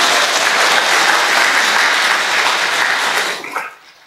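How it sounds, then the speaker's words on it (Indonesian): A large event audience bursts into loud, dense applause for the Kudus contingent, sustained at full strength before dying away over the final second. "Tepuk tangan dulu Kudus."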